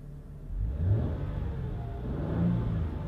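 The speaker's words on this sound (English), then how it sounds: "Give it a bit of a rev for you." A Mercedes-Benz SL350 with 45,000 km on it revs its engine, giving a low, throaty rumble that swells twice over about three seconds, fairly close and without talk.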